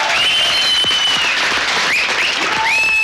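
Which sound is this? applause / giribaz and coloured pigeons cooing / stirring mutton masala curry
applause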